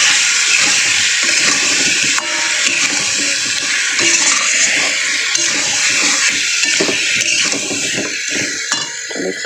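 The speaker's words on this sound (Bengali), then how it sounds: "জল দিয়ে দিয়েছি মশলার সঙ্গে।" Water poured into a pan of spices frying with chili and turmeric powder gives a loud, steady hissing rush with faint clinks of a utensil, carrying on without a break for the whole stretch, and no one speaks.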